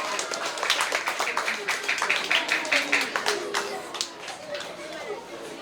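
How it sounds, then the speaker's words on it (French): Schoolchildren and parents clap for a ninth-grade girl honoured as a prize winner at a school reading day, a dense, steady burst of hand claps with voices chattering underneath, tapering off near the end. "Applaudissez-la s'il vous plaît."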